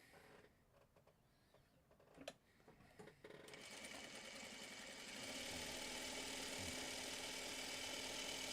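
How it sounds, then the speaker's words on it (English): A sewing machine stitches quilt block fabric for a Birds in the Air pattern, starting after quiet handling clicks and running as a steady, close, continuous whirring hum that grows slightly louder. "And let's sew."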